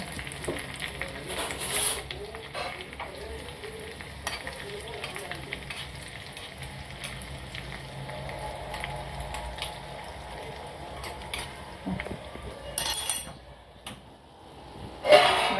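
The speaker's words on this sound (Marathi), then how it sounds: "जिरं तडतडलं का त्याच्यात थोडासा बारीक कापलेला लसूण टाकायचा आणि आपण बेडगी मिरची टाकू" Cumin, chopped garlic and byadgi chilies sizzle in hot oil as a tempering for whole masoor gravy, a soft continuous crackle with scattered pops, close by and fairly quiet, louder bursts near the end.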